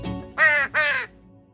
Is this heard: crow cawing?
yes